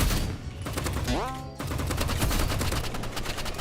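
Rapid, dense video-game gunfire from an Exogun and an assault rifle, loud and nearly continuous, with a rising whooshing effect partway through and no talk over it.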